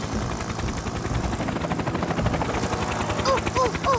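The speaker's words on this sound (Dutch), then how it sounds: "daar is Tom met zijn helikopter" Whirring, steady helicopter rotor chop from a Fireman Sam cartoon, loud and continuous, with short whistling tones near the end.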